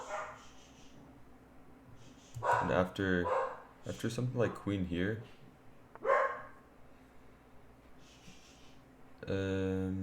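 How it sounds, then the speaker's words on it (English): Several dogs bark in the background, in bursts of sharp barks and yips spread across the stretch, while someone talks quietly in between. "Sorry about the dogs in the background, by the way."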